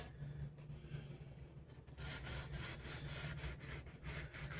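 Sandpaper rubs back and forth over the fret ends on a Squier bass neck, quiet at first and then a run of close, rhythmic rasping strokes.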